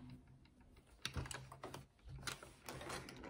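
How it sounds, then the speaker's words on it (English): A sewing machine stitches pinned wool coat pieces with a 1/4 inch seam allowance, giving quiet, close rapid mechanical bursts with brief pauses between runs. "so we're just going to sew them in place now"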